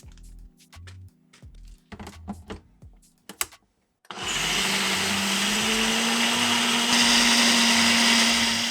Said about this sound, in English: Right here I'm adding into my smoothie cup where I'm gonna blend the batter all together